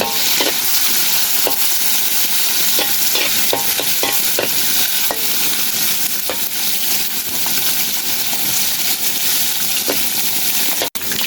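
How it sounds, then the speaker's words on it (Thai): Squid pieces fry in hot oil with a loud, continuous hiss and crackle. Scattered pops and clicks run through the steady sizzle for the whole stretch, and no one talks. "พี่อ้อยทอดปลาหมึกค่ะทุกคน"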